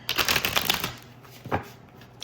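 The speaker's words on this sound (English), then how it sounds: "what kind of shuffle was that?" Tarot cards are shuffled in a quick, dense riffle of crisp flutters lasting under a second, followed by a single sharp tap as the deck settles, heard close and fairly loud.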